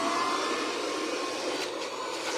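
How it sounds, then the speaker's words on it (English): A vacuum cleaner running off a DIY off-grid battery setup gives a steady, loud broadband whir that holds constant throughout, with no talking over it. "And then we can get to vacuuming."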